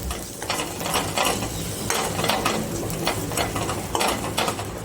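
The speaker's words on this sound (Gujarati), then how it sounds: "હવે આપણે એમાં ચણાનો લોટ નાખીશું. આપણે આમ જ શેકી લઈશું." Gram flour being stirred and roasted with cumin in a pan for Jain paneer bhurji, a steady scraping of the spoon against the pan over a soft constant sizzle, close and continuous with no talking.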